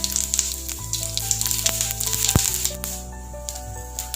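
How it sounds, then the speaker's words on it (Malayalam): Mustard seeds fry and pop in coconut oil, a sharp sizzle with sporadic crackles and one loud close pop over a steady hiss. "ഇതിലേക്ക് കടുക് ചേർത്ത് കൊടുക്കാം"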